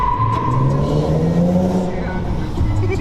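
A modded 2013 Nissan 370Z with a 7-speed automatic revs in a parking garage, its engine climbing and falling in one short, loud burst that echoes off the walls.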